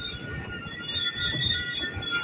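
Chennai–Coimbatore Intercity train pulling into Coimbatore, a quiet steady rumble of wheels with thin high-pitched squeals ringing above it throughout.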